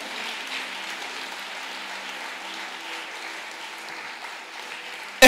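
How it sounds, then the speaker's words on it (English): Church congregation clapping during a worship service, a steady, moderately loud wash of applause lasting several seconds with no talk over it. "Clap for Jesus."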